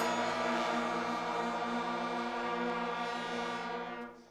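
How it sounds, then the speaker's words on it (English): A beginner school band's brass section at a concert holds one long, steady, buzzy note together for about four seconds, then fades out at the end. "And that's our brass section"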